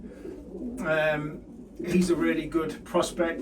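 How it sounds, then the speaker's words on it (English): Racing pigeons bred for middle and long distance coo in a loft, a few soft throaty coos close by, with someone talking over them. "These are more middle and long distance pigeons."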